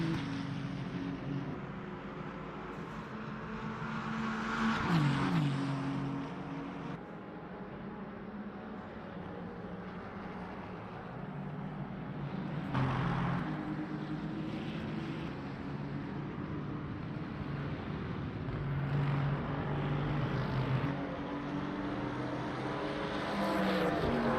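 GT3 race cars, a Mercedes battling two Porsches on a circuit between two lakes, roar past with engine notes rising and falling in repeated swells, heard from a moderate distance.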